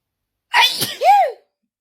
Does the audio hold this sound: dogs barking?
no